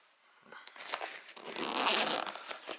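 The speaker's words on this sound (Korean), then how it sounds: "어느 방향이든 어느 쪽에 물품이든 이 지퍼를 개방해서 꺼낼 수 있는 그런 시스템을 가지고 있습니다" A zipper is drawn open on a SOG Prophet 33 tactical backpack, a rasping run that builds and peaks near the end. Faint handling noise of the pack's fabric sits beneath it.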